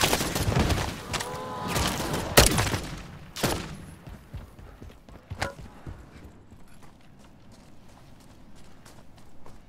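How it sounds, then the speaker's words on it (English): Rapid bursts of SD-14 gunfire in Call of Duty Zombies crack loudly at first, then thin out into scattered, fainter shots and clatter, with no talk over them. "It's a, SD-14. I have it in semi-auto, but it has a 50-round mag."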